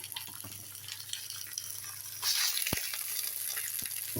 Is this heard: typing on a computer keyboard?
no